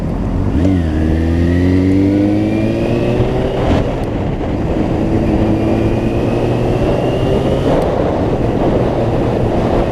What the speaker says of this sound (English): Lovely day for riding a bike today.